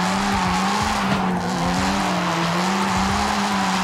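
A Mazda RX7 in Forza Horizon 5 skids with a long, steady tire squeal over a loud, close engine drone, held without a break during a drift.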